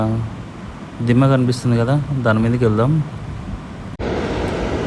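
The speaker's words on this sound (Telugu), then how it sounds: "వాటర్ సౌండ్ చాలా హెవీగా వస్తుంది వినండి మీరు కూడా" Heavy water rushes over the overflowing Krishna river dam near Domalapenta and Srisailam as a steady broadband roar. Someone talks over it in the middle, and the roar grows louder and rougher alone near the end.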